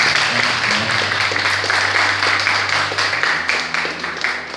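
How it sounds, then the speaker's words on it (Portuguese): A church audience applauds in honor of the mother of Jesus at a Catholic prayer group gathering, a dense, sustained wash of clapping from many hands that stays loud for several seconds and eases slightly toward the end. "Vamos aplaudir a mãe de Jesus."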